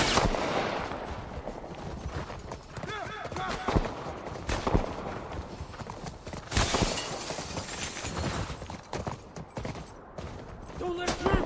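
Gunfire in the video game The Last of Us Part 1, dense bursts of loud shots and shattering cracks, close and chaotic, recurring through the clip with voices shouting in between.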